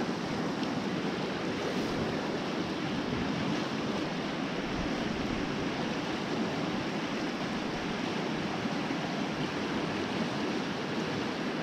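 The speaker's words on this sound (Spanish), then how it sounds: "Está el río muy alto, mucha agua." Loud, fast-flowing river running high with lots of water, a steady broadband rush and roar with no pauses, heard close at a riverside fishing spot with no talking.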